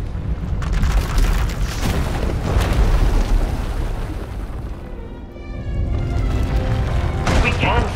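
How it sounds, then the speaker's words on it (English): A power eruption explodes in Star Wars: The Old Republic, with sustained booming rumbles and blasts through most of the scene, then a second burst near the end, while characters speak over it. "When it erupts, the entire asylum will be destroyed."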